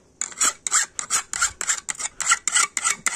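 A metal hand file rasped across a brush cutter blade to sharpen it, about a dozen close, rhythmic strokes in a steady back-and-forth pattern with brief gaps between them.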